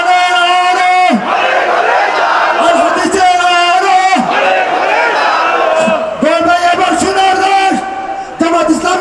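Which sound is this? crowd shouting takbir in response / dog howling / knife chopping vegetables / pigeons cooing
crowd shouting takbir in response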